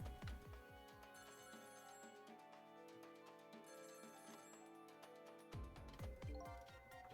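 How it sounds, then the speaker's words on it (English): A telephone rings repeatedly in the video game Ghost Trick, with loud, clear electronic ring bursts over background game music. "The phone's been ringing off the hook from headquarters"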